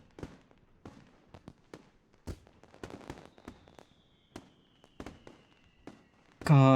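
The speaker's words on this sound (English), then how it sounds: "God, I love fireworks, even if they're so ungodly loud." Fireworks going off in a night display within a visual novel game, a string of sharp distant cracks and pops spaced irregularly, ending in a louder burst of sound.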